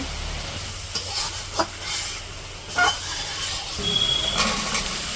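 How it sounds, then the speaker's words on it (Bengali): In a simple village kitchen, masala with turmeric, chili powder, ginger-garlic paste and salt fries and is stirred in a pan, a soft sizzle broken by a few scraping strokes, with faint background noise and a brief high squeal near the end. "মরিচের গুঁড়া আদা রসুন বাটা লবণও দিয়ে দিল মশলাটা কষাই নিব"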